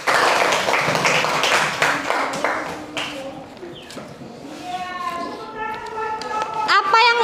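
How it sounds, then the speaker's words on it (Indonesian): Students in a classroom break into applause during an Indonesian religious-studies lesson, a dense burst of clapping over the first few seconds that thins out as children's voices and chatter take over. "tepuk tangan untuk kita semua."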